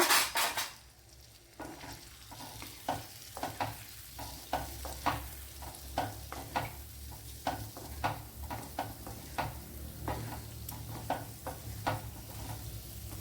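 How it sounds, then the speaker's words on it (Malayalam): Quail eggs fry in a pan with a steady sizzle, while a utensil stirs and scrapes against the metal in repeated sharp clinks that come at an uneven rhythm. The clip is close and moderately loud, and no one speaks. "ഇനി നമ്മുടെ മുട്ട ഇതിലേക്ക് എടുത്തിട്ട് കൊടുക്കാം"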